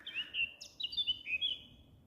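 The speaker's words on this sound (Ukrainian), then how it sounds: "співають пташки" Several birds chirp and tweet in quick high phrases, fairly close, with a soft low background hum and no talking.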